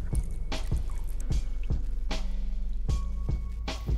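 Distilled white vinegar sloshes and splashes into a cooling system part of a 1978 Toyota Bandeirante with a Mercedes OM314 engine, arriving as repeated close, wet slaps and drips every half second or so over a steady low trickle.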